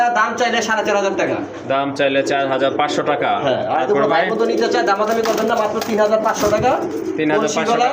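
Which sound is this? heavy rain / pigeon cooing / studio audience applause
pigeon cooing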